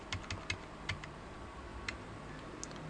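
Shift and arrow keys pressed on a computer keyboard give a string of soft, close clicks, several quick taps then a few spaced ones, alone in a quiet room.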